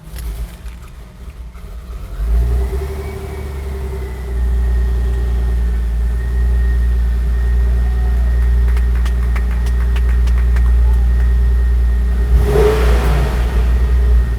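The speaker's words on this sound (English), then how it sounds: "Once the engine started, it was amazing to hear it purr" Restored classic car engine cranking and catching, then settling into a steady, deep running rumble close by, with a slight rise in revs and some clicking near the end.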